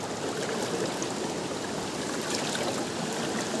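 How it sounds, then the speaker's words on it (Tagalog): River water rushes steadily at close range, a dense, continuous roar of flowing current with no pauses and no voices. "Yung tubig, pumaragasan na yung tubig dito."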